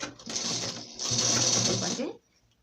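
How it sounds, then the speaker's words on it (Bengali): Stitching a falls border onto a saree produces one continuous, moderately loud run of machine-like whirring that lasts about two seconds before stopping abruptly. "দেওয়ার পরে একদম ধার দিয়ে সেলাই করা শুরু করে দিতে হবে"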